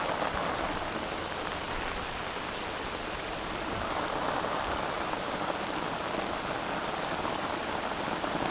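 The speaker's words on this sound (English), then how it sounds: "this rain's starting to set in, so it's brolly time." Steady rain falling on a river during fishing, a dense, even hiss of drops hitting water and surfaces, continuous and fairly loud with no other sounds.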